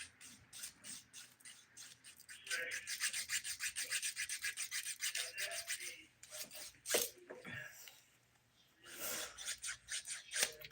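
A nail file rasps repeatedly over dip powder nails, quick close strokes in bursts with brief pauses, small clicks and handling noise between them.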